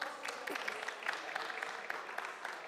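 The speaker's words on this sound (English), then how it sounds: "Can we just give them a quick round of applause?" Audience applause for a panel at a conference, a fairly faint, steady patter of many hands clapping heard from a distance throughout the short clip, without talk.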